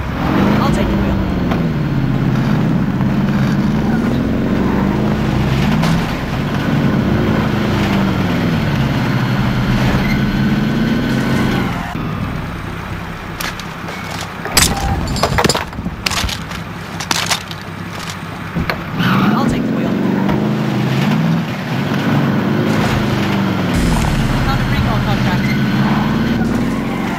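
Vehicle engine driving in a Warzone battle royale video game, a steady loud rumble with rising and falling revs, rattling and crunching impacts through the middle, and a game voice speaking over it.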